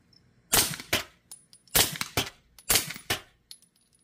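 Suppressed shots from a B&T SPC SD 9mm short-barreled rifle fired into dirt outdoors, three close pairs of sharp, clicky reports with quiet gaps between them.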